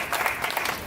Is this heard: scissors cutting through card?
no